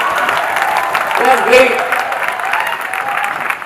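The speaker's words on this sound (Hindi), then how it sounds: "और सबसे पहले मैं चाहूंगा कि आप सब अपने लिए एक जबरदस्त तालियां बजाइए" An audience at a motivational talk claps loudly and continuously, and a person speaks briefly over it.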